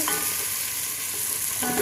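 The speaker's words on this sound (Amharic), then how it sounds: "በሰላ በኋላ በደንብ አድርጌ አቁላለሁ።" Shrimp fry in a pan with a steady, close hiss of sizzling oil and faint crackles throughout the short stretch, with no talking.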